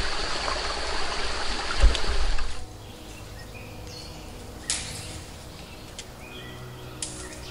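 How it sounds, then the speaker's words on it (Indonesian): Water flowing at a mountain spring while bottles are filled, a close, steady trickling stream with a louder gush early on that drops to a softer flow, plus a few faint chirps. "Saya lagi ngisi air karena di sini sumber air yang terakhir."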